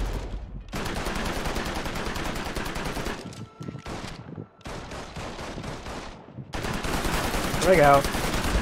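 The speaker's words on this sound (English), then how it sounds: "The bullets are flying." Rapid bursts of gunfire crackle through a Mafia 3: Definitive Edition shootout, dense volleys of shots with a brief lull midway, loud and close, while someone speaks briefly over the barrage.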